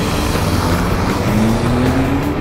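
A Datsun car accelerates hard from a race start, its engine roaring loud and steady with a rising tone as the gear pulls through, close and continuous.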